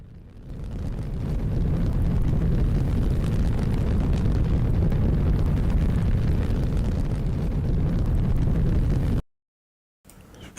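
A rocket's main engine burns during a launch in the Roblox game Eris Space, a loud, steady, deep roar lasting about nine seconds before cutting off abruptly into silence.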